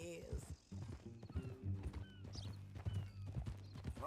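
Hooves clip-clop at a steady walking rhythm from a horse in the video game Red Dead Redemption 2, with a brief whinny and low character voices talking over the steps.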